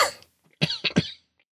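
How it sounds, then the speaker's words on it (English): A single person gives a short burst of coughs, two or three close rough hacks after a breathy exhale, up close in a quiet room. "a little bit of a cough."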